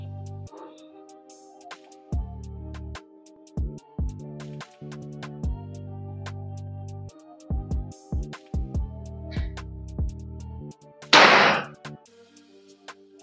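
A single sharp shot from a Sanaji Neo Class PCP air rifle at 4000 PSI cracks out once near the end, loud and brief, over background music with no talking.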